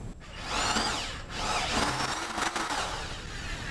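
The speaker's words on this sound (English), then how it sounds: "That was just to drill through the tape without putting any pressure on" A power drill whirs loudly and steadily, its pitch rising and dipping as it bores through tape into a stripped spark plug thread in an engine cylinder head, with no talking.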